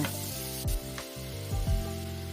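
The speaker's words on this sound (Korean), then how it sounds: "팬에 양념된 소고기를 볶아줍니다" Seasoned beef fries in a pan with a steady close sizzle, broken by a couple of brief stirring scrapes and no talking.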